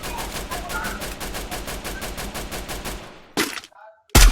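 Rapid, evenly spaced bursts of automatic gunfire from a video game firefight rattle on for about three seconds, then stop, followed by two more sharp, loud shot blasts with near silence between them.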